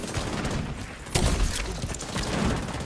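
Video-game gunfire rattles in dense, rapid bursts, with a heavier shot cracking out about midway, all fairly close and continuous with no clear speech.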